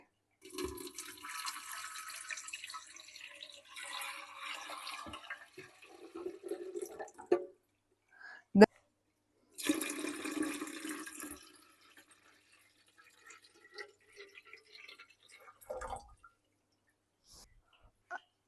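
Water pours from a container into an ibell air purifier: a few short splashing and trickling bursts, fairly close and quiet, separated by gaps with small handling knocks.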